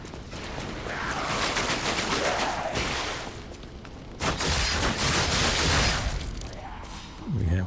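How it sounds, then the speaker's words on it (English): Acid-throwing enemy in Lies of P unleashing a rapid barrage of bursts, dense crackling volleys in two main waves separated by a short pause, loud and close with mechanical clatter. "We have an acid-throwing enemy. Who fires off a little barrage and takes a break."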